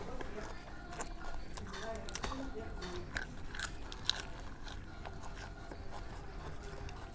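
Close, crunchy bites and chewing on crispy Thai fried spring rolls repeat steadily over a low, noisy background, with one sharper crack partway through.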